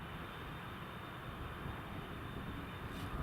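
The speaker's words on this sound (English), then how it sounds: "Citation is taxiing along." A Citation jet taxis at Newcastle Airport in the rain, a steady broadband engine roar and rumble that holds even throughout, distant and fairly faint, with no voices.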